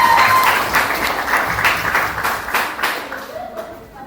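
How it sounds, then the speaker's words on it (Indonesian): A classroom group claps for a student team, a loud burst of dense applause that gradually thins and fades over a few seconds, with a voice briefly audible. "tepuk tangan dulu untuk kelompok 1."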